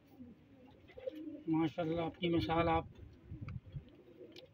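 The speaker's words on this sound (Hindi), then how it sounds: "ये मेरा काना कबूतर है" A one-eyed pet pigeon coos in a few close, throaty bursts while someone talks over and around the calls.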